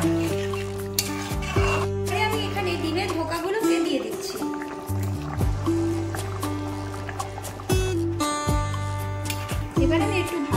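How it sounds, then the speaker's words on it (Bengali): A pan of potatoes in water for an egg curry is stirred gently, with light scraping and wet sloshing over steady background music. "এবার আমি একটু ভালো করে নাড়িয়ে দিলাম হালকা হালকা করে"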